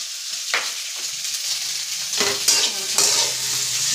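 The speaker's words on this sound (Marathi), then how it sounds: "गरम करते शेवायचा उपमा." Vermicelli upma sizzles as it heats in a pan, with a spoon scraping and stirring it in several distinct strokes over a constant crackling fry, close and fairly loud.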